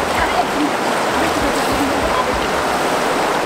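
Fresh water of the Bhagirathi river flowing steadily in a continuous broadband rush, close and loud, with no pause across the stretch; a faint voice may sit beneath the water.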